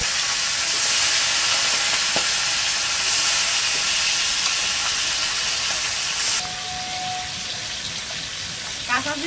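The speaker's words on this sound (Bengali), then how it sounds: "আজকে মাছগুলো বেশি ভাজবো না, সরষের তেল আনবো তো একটু কম ভাজবো।" Small hilsa fish frying in mustard oil, a loud steady sizzle and hiss that dips slightly after six seconds, with a brief tonal beep and some background clatter near the end.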